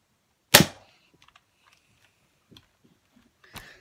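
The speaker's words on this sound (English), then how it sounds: "you push back, you prime the gun, the handle down here. Pull down, push up, and now you're ready to fire." A Nerf Rival Knockout foam-ball blaster fires with one loud, sharp snap close by, followed by faint plastic clicks and rattles of handling and a second, softer snap near the end.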